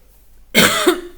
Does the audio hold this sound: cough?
yes